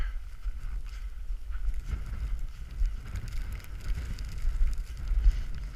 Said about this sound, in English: Certainly windier.